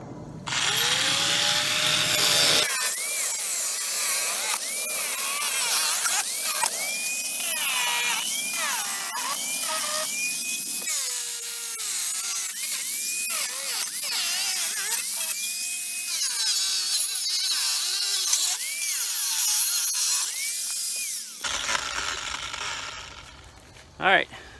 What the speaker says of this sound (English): we're going to cut this tank up with this angle grinder